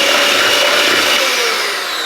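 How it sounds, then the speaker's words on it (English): Vegan pumpkin cookie batter being whisked gives a loud, steady whirring hiss. It runs unbroken for a couple of seconds and fades slightly at the end. "Apparently I'm whisking it."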